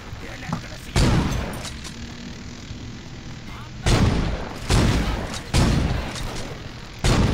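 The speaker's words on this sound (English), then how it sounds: "he's like shooting them out of the air with a shotgun" A shotgun fires in a video game as five loud, booming blasts at irregular intervals, with people talking in the background between shots.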